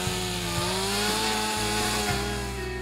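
A firefighting power saw cuts through an arched roof during vertical ventilation, a loud, continuous motor drone with shifting pitch as the blade bites into the roofing, close and alone without talk.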